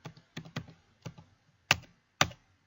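Fingers tap on a computer keyboard while entering text into a document, about seven sharp, separate keystrokes at an uneven pace, close up in a quiet room.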